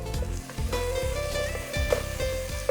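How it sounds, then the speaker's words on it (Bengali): Spices sizzle in hot oil in a pan, a loud dense frying hiss with stirring clatters and a persistent hum underneath, no speech. "আমি একটু তেল দিয়ে নিই।"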